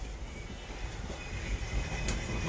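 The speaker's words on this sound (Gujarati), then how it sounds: "આ છે માલગાડી." Freight train rumbling past nearby, a steady loud low roar with faint clatter throughout and no voices.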